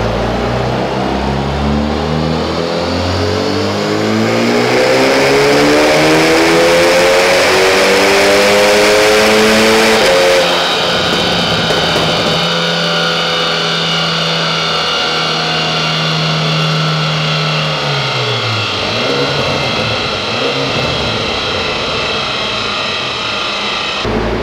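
A modified VW Jetta tuned past 300 hp revs hard on a dynamometer, its loud engine note climbing steadily, dropping off sharply, then winding up again in a second sustained pull, with no voices.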